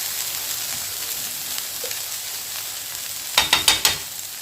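Dahi toast frying in ghee in a pan, a steady close sizzle throughout with a few sharper crackling pops near the end, no talking.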